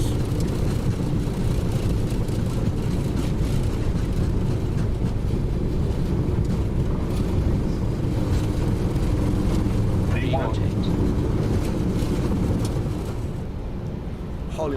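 Airliner jet engines roar steadily at takeoff thrust in the X-Plane 11 flight simulator during a takeoff roll from Rio Branco, a loud continuous broadband rumble lasting throughout and easing slightly near the end, with a voice talking over it.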